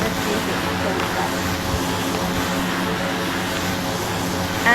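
Propeller airliner engine in the Roblox flight game PTFS during approach to Lukla airport, a steady continuous drone held at constant loudness throughout with no talk.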